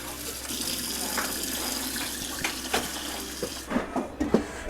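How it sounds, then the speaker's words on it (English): Crab legs rinsed under running tap water into a bowl, a steady faucet stream splashing throughout with a few clinks and knocks near the end; faint talk underneath. "we're just going to rinse these out"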